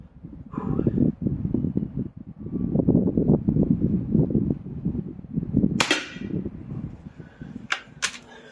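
Weihrauch HW99S air rifle shots during a group-shooting session: a couple of sharp, close cracks near the end, after a stretch of wind-buffeted rustling and handling noise.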